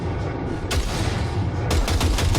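Two loud gunshots fired at a target in Cyberpunk 2077, sharp reports about a second apart over a rumbling game background, no talking.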